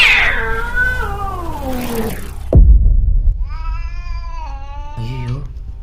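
A cat gives a long, loud drawn-out meow, followed after a sharp thump by a series of shorter, wavering meows, close and clear.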